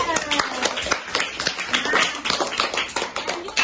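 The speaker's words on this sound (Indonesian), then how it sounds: "Tepuk tangan untuk Tridara." A classroom of students claps for a classmate named Tridara after a maths answer, a busy patter of many hands over several seconds with voices mixed in.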